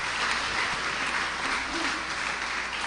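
A church congregation at a year-end Sunday service claps together in sustained, dense applause, loud and continuous throughout.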